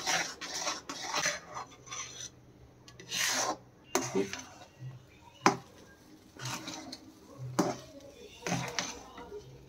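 Semolina halwa with sugar and milk powder stirred in a pot, with rhythmic scraping and clinks of a spoon against metal in irregular bursts and quiet gaps.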